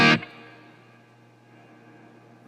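Electro-Harmonix Cathedral reverb pedal with the blend turned slightly up: a single sharp guitar strike, then a long, quiet reverb tail that sustains evenly on its own.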